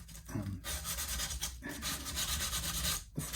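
A rough end-bevelling file rasps against guitar fret ends in steady back-and-forth strokes, close and fairly quiet, with short pauses between passes.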